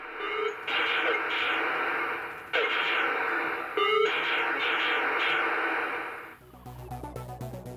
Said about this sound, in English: And here we get the same great gameplay, but now with different sounds.